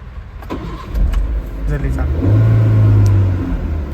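A car engine cranks and starts, then revs up loudly with a steady rising drone, close by in a garage, with talk going on over it.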